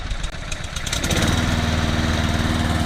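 A repaired Hayter lawnmower engine catches after a few sputtering pulls and settles into a loud, steady, close running drone.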